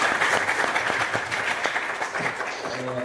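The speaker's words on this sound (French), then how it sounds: "je vous demande d'applaudir Monsieur Lycée pour cette présentation" A room full of people at a presentation clapping steadily, the applause dense at first and thinning slightly toward the end.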